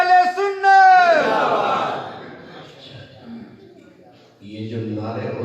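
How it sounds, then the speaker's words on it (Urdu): A crowd at a religious gathering chants slogans back to a speaker, beginning with a loud drawn-out call answered by a massed roaring response that fades, then another swelling group chant at the end. "یہ جو نعرے ہوتے ہیں اس لیے پیارے ہوتے ہیں، یہ انڈیکیٹر ہوتے ہیں کہ سمجھ آ رہی ہے"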